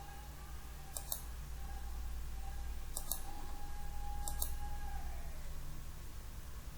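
A computer mouse gives three sharp, close clicks spaced about a second or two apart, each a quick doubled tap, over a steady low hum with no voices.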